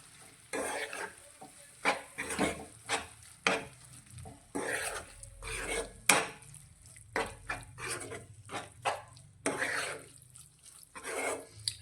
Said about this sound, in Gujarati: મસાલાને પણ આપણે સારી રીતે મિક્સ કરી લઈશું